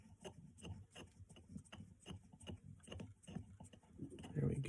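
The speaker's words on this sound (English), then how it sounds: "we can just spin the carving tool, and you can see how nicely that's going to drill a hole for us." A carving tool is spun by hand to drill a hole in a block of wax, giving a quiet, close, repetitive scraping and rasping with a soft rhythmic grind, faint and intimate throughout.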